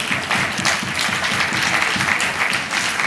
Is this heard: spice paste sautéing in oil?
no